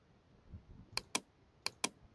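Four crisp computer keyboard keystrokes sound close and quiet, in two quick pairs over a faint low hum, with no talking.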